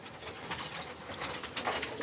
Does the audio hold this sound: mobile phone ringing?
no